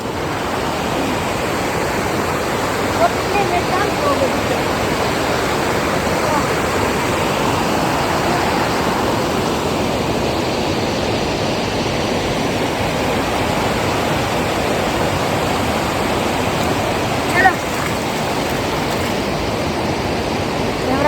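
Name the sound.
water rushing against rocks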